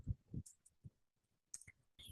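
Commands being typed on a computer keyboard during a network configuration task, heard as a few sharp clicking keystrokes in short bursts separated by quiet gaps, close and fairly soft with no talk.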